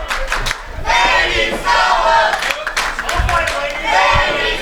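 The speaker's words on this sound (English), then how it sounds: "And the crowd here at the FGW Arena taunting Solo." A wrestling arena crowd at the FGW Arena jeers and taunts the wrestler Solo, a loud, continuous roar of many voices rising in surging chants and shouts, with a few scattered claps.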